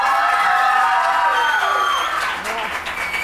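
Studio audience applause on a Pakistani weekend talk show, loud and continuous clapping with some cheering, easing slightly toward the end.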